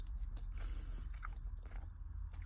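Crispy fried pork belly, lechon kawali, eaten with plain rice: close crunchy bites and steady chewing fill the clip, with sharp crackles over a low, continuous mouth noise and no talking.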